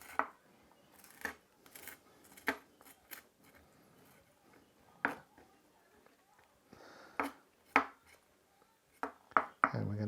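A knife chops fresh chilies on a cutting board, producing a string of close, distinct taps in an uneven rhythm with short pauses between bursts.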